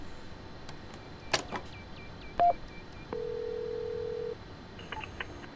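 In the Train Simulator 2020 game, a phone dials the signaller: a quick series of short key tones, a brief beep, then one long steady dial tone, close and clear over faint cab ambience.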